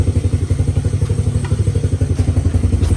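A Honda Fatcat engine idles too high, running with a steady, fast, loud thumping beat up close, a little clatter riding over the rhythm and no talking.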